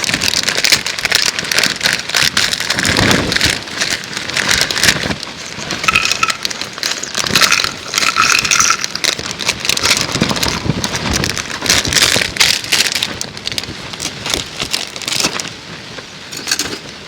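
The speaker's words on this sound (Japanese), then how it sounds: "風と雨のダブルパンチはきついな。" Heavy rain and gusting wind pound a Bundok solo dome tent at night while camping on a deserted island at Kashima, Wakayama, a dense, close drumming patter with surging gusts throughout.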